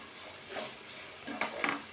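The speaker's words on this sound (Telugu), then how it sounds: "అందుకని నేను పోపు ఓన్లీ ఆవాలు, జీలకర్ర వేసుకున్నాను." Mustard seeds, cumin and curry leaves tempering in hot oil, a soft sizzle with a few sharp crackles and pops near the end, fairly close and quiet.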